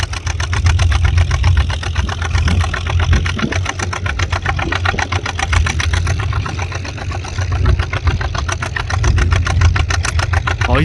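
Antique John Deere tractor engine running steadily at a plow day, its exhaust popping rhythmically through a chrome stack in a fast, even putt-putt with a deep low throb, loud and continuous throughout.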